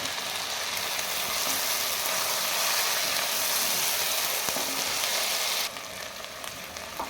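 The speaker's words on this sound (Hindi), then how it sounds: "एक से 2 मिनट हो गए हैं, लहसुन अदरक को भून चुका है।" Garlic and ginger frying in a pan for a homestyle rajma dish, a dense steady sizzle that holds for several seconds before dropping a little quieter near the end, with a faint clink of stirring.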